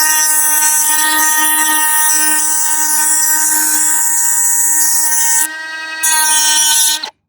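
Power tool deburring the top of a Trick Flow valve cover part during an upgrade on a 1968 Ford Thunderbird 429, a steady high whine with strong tonal harmonics running continuously and loud, dipping briefly near the end before cutting off.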